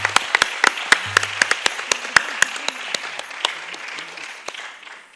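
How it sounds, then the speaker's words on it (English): Audience applause at a Bharatanatyam-style arangetram dance debut, a burst of sharp individual claps that thickens into steady hall clapping, then fades gradually toward the end. "Let's give another round of applause to Tulsi and Radhika"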